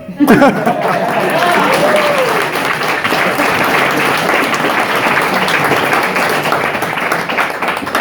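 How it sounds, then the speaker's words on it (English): A round of applause from the audience at the close of a KamehaCon 2018 YouTuber convention panel: loud, sustained crowd clapping for about eight seconds, with a shout at the start and chatter beneath. "Here's a round of applause for all you."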